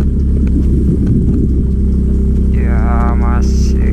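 A Yamaha Gear scooter holds the throttle up a steep slope, its engine droning loud and steady throughout, with someone speaking over it near the end.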